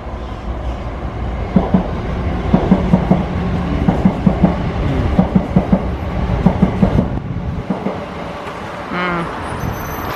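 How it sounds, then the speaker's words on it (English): A train rolls by close up, with a rumbling roar and rhythmic clickety-clack of wheels over rail joints, then fades toward the end. "Look, train is coming"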